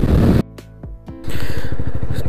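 A Jawa 42 motorcycle on a Goa road trip roars loudly, drops to a brief idle with a couple of blips, then revs back up into a steady, rapid, throbbing engine note close to the microphone.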